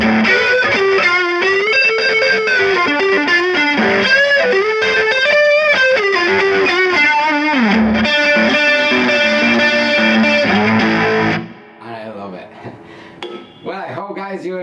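Electric guitar fitted with a bright tone capacitor plays a loud, distorted run of chords and lead notes with effects, then drops to quieter, sparser picked notes near the end.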